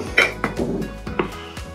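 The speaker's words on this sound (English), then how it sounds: "Give that a little stir through." Beef stew ingredients stirred in a slow cooker, giving a few quick clinks and scrapes of a spoon against the pot in an irregular rhythm, close and fairly soft.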